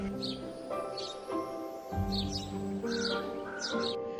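Birds call in a forest, a series of short, repeated caw-like cries spaced about half a second apart over a steady musical background.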